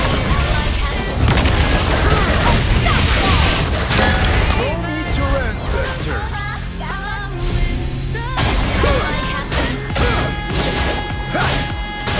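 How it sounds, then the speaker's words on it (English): A turret is destroyed in a team ranked battle video game, heard as a busy stream of crashing impacts, bangs and whooshes layered over game music, with in-game voices talking through the action. "Your team destroyed the turret!"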